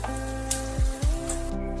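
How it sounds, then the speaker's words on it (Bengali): Fish balls for a fish kebab curry fry in hot oil, giving a steady close sizzle with a few soft popping bursts over a low electrical hum, and no talking. "ওই তেলেতেই একইভাবে সমস্ত ফিশ বলগুলোকে এইভাবে ভেজে নিতে হবে"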